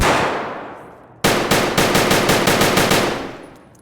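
An ADAR rifle fires in Escape from Tarkov: a loud close shot rings out and decays, then a rapid string of about ten sharp shots follows in quick succession, each tailing off into echo, with no talking.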